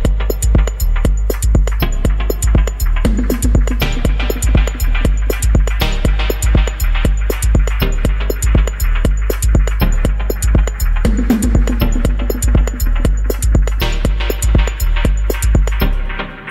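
A dub techno piece plays on a Nina synthesizer, with steady pulsing kick-driven rhythm, stabbed chords and echoing textures, loud and continuous with no voices.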